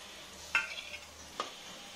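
Chhena fritters frying in hot oil in a wok, a soft steady sizzle with two brief sharper crackles, no voices.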